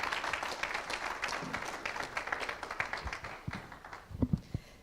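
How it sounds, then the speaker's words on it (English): At a city forum, audience applause for the panelists: scattered clapping from a modest crowd that thins and tapers off into a few last separate claps, fairly quiet. "think a big round of applause to them"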